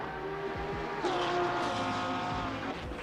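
Race cars in a video-game endurance race at Spa roar steadily at high revs, a second car's engine note shifting in pitch as it closes in, with a brief tire squeal, loud and continuous throughout.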